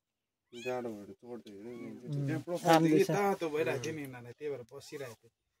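A small kitten mews repeatedly, a string of high, thin cries close by in an otherwise quiet space.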